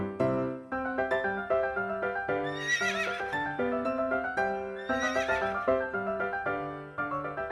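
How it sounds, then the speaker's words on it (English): A horse neighs in two long, loud, quavering whinnies, each rising and then trailing off, with hoof clip-clops and no talking. "H for horse."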